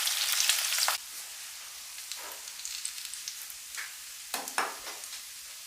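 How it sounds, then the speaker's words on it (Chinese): Prawn heads fry in hot oil, with an opening burst of loud sizzling that drops to quieter crackling, broken by a few sharp spatters and the scrape of a spatula pressing them. "炸的时候可以用铲子把虾头稍微压一下，让它里面的黄流出来。 炸到香味四溢"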